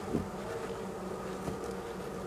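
Honey bees buzz around the hives of an apiary during an early-morning inspection, a continuous dense hum close by with individual bees passing near, and no voices.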